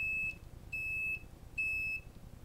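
A high electronic water sensor alarm beeps three times in a regular pattern, each tone lasting about half a second and separated by short pauses.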